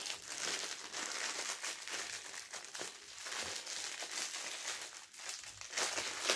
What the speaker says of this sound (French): Je vais déballer les diamants.